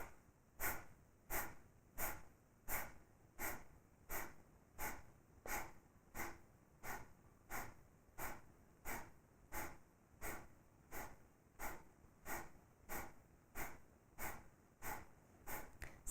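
Rapid, forceful nasal breaths in the Bhastrika yoga style repeat in an even, steady rhythm about once a second, close and alone, with sharp snort-like exhalations.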